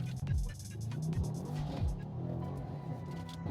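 A powerful 460-kilowatt car engine revs and climbs hard in pitch, a close, loud roar that falls back and surges again as it accelerates.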